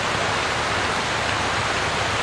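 Heavy rain falls outside as a loud, steady broadband wash of noise, unbroken and close, with no speech.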